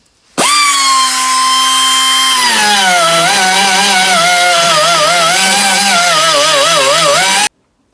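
A die grinder runs steadily at high speed while grinding out the ports of an exhaust manifold held in wooden soft jaws, its whine wavering in pitch as it bites the metal, loud and close without talk.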